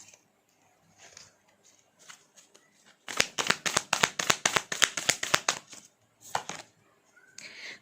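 Tarot cards are shuffled by hand, a rapid burst of crisp riffling slaps lasting about three seconds, with a few softer card taps and handling sounds before and after.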